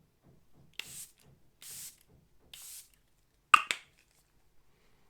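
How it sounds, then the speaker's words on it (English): Charlotte Tilbury airbrush setting spray misted onto a face in three short, soft hissing bursts, close and quiet, followed by a sharp click of the bottle cap, with faint tapping in between. "I'm going to spray my face."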